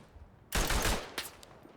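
A Hotchkiss machine gun fires in the World War I shooter Verdun, a loud close burst of rapid shots followed by a shorter second burst, with no talking over it.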